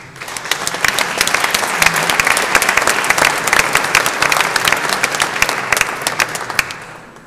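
An audience at a German award ceremony applauds to welcome the speaker giving the laudatory address, a dense, loud, sustained clapping that swells quickly, holds steady and starts to fade near the end.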